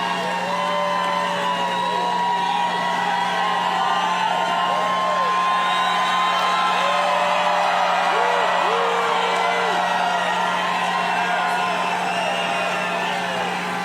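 Large outdoor political rally crowd in Newton, Pennsylvania, cheering, whooping and yelling steadily throughout, a continuous wash of voices with rising shouts, plus a steady electrical hum.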